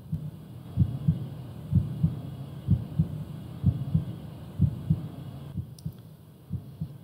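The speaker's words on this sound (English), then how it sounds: "We've got a heartbeat going on, and I can't explain what that is." A steady heartbeat in a Sega Dreamcast game level, low paired thumps repeating about once a second over a faint hum, close and even in loudness throughout.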